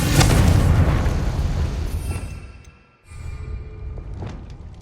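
A Confringo spell in the Hogwarts Legacy video game bursts with a loud, close boom that rolls into a rumbling tail, fades to near silence, then gives way to lower crackling debris and ambience.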